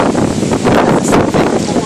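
Strong gusting wind from a whirlwind in a severe storm over Magdeburg batters the microphone in a loud, rough, continuous roar, filling the whole short stretch with buffeting noise.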